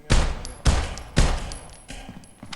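Gunfire from the Critical Ops mobile shooter game: three loud, sharp bursts spaced about half a second apart, then a softer fourth burst, with no talking over them.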